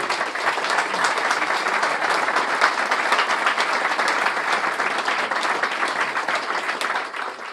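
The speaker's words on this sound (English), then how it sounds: "Can we give him a big round of applause?" A packed room audience at an MIT talk applauds with steady, dense clapping that holds evenly throughout and fades slightly at the end.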